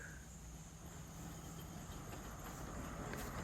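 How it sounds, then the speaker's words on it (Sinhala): A train on a Sri Lankan railway, the LODC service, approaches as a faint, steady rumble and hiss with no distinct wheel clatter, heard from some distance and no one talking. "මම හිතන විදියට මේ ටයිම් එකට එන්නේ LODC කියන ට්‍රේන් එක"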